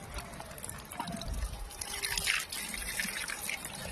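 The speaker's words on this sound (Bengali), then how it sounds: "এই আদাগুলো এখন আমি ধুয়ে নিচ্ছি" Freshly dug ginger is washed in water, with sloshing, trickling and dripping close by at a quiet level and a few soft splashes.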